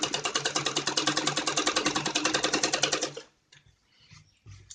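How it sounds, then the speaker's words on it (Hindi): A sewing machine runs a fast, steady straight seam through net cloth for a Patiala salwar, its rapid even needle chatter loud and close, then stopping abruptly, leaving a few faint handling sounds. "अब ऐसे मैं सीधा सिलूंगी।"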